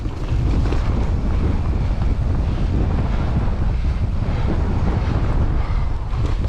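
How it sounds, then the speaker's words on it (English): Strong wind buffets the microphone on a mountain bike ride in the Peak District, a loud, constant broadband roar that never lets up. "Getting blown off by the bloody wind, man."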